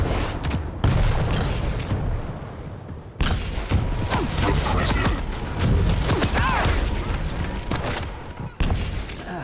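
Rocket explosions in a video game match, heavy booming blasts going off one after another over a dense, loud roar of battle, with sharp impacts at a few moments.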